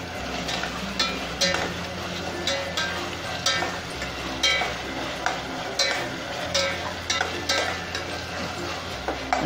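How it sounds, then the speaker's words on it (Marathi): Ginger garlic paste frying in a pan while being stirred, a steady sizzle broken by repeated scraping strokes of a spoon against the metal. "आलं लसूणचा उग्र वास निघून जाईपर्यंत जरा फ्राय करून घेऊया"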